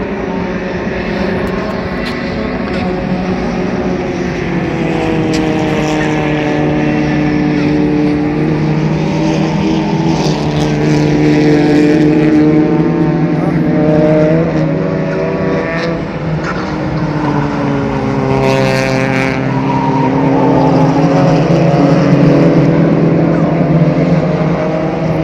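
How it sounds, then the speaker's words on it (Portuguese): Cars run at the Interlagos drag strip, heard as a loud, continuous engine roar with rising and falling pitch as vehicles accelerate and pass in the distance. "Essa parte aí é a pista de arrancada aqui de Interlagos."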